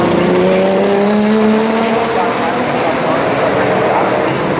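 A loud BMW 325 race car howls along the start-finish straight at the Norisring during a classic race event, its engine note sweeping up through the gears, with a commentator speaking over it.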